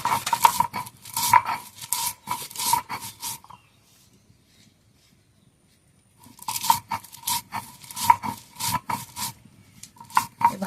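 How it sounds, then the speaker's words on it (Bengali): Fried spices being ground on a stone grinding slab (shil), rhythmic scraping and crunching strokes in two bursts separated by a few seconds of near silence, close and fairly loud with a faint ringing tone. "শিলে বেটে নেব"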